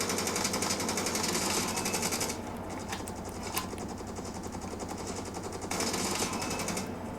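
Rapid automatic gunfire from a mobile shooter game, dense bursts loud at the start and end with quieter stretches and a few sharp single shots between.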